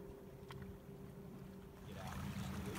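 A paddle strokes the water beside a small boat outdoors under a clear sky, a faint splash near the end over steady wind and water wash, heard close and quiet.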